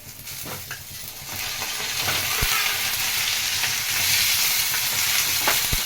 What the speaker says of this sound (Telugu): ఇప్పుడు మటన్ వేసుకుందామండి ఉల్లిపాయలు వేగిపోయినాయి